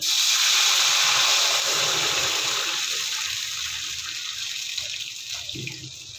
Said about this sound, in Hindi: अब इसमें डाल देंगे हम पानी।